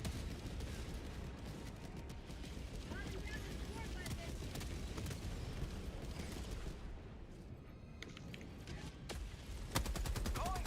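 Sustained gunfire from a Warhammer 40,000 video game, a dense, continuous wall of shots and explosions rolling on steadily throughout, with a voice talking underneath.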